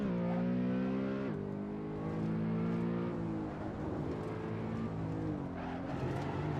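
A BMW E92 M3 in a racing video game at the Nürburgring revs hard with a loud, continuous engine whine that climbs and drops in pitch through gear changes, running steady and close throughout.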